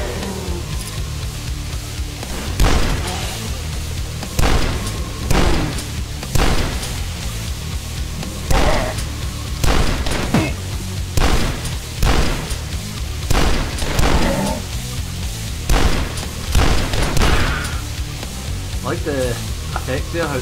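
Shotgun blasts in the retro PC shooter Dusk ring out in a steady series of about a dozen loud, punchy booms spaced a second or two apart over a constant background rumble.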